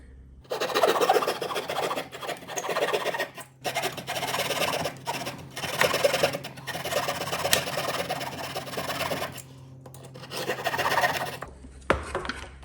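A saw or rasp cuts a notch in a wooden piece for a chicken tractor, giving repeated rough scraping strokes in bursts with short pauses between them, close and fairly loud.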